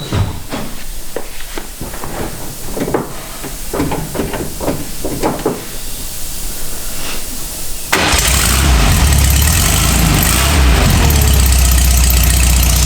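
An air-cooled car engine cranks with a series of rhythmic churning pulses, then catches and settles into a loud, steady idle right nearby.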